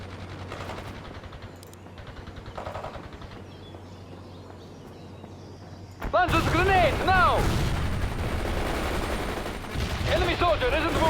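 Gunfire and bursts of rifle shots in World in Conflict: Soviet Assault, starting quietly under game voices and then erupting halfway into loud, rapid volleys mixed with battle noise.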